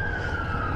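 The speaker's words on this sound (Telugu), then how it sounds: "నా ఇంకొక అంబులెన్స్ వస్తుంది" An ambulance siren sounds along a road by a lake, a steady piercing tone held loud and close throughout with traffic rumble beneath.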